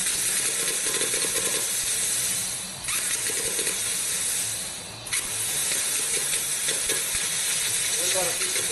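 Compressed air rushes through a Vevor CUT-50P 50 amp air plasma cutter in a loud, steady, close hiss that dips briefly twice before resuming at full strength.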